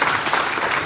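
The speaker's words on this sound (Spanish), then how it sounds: "Un aplauso para Jessica." An audience at a book presentation bursts into loud, dense applause, a brief steady wash of clapping close by.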